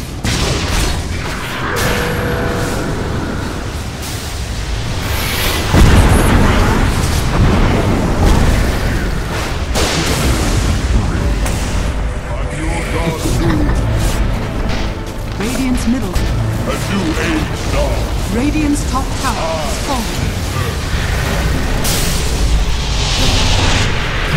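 A busy Dota 2 fight at barracks and towers gives off repeated booms, bursts of impact and clashing spell effects over a steady bed of game noise. An announcer-style voice speaks at intervals over the action.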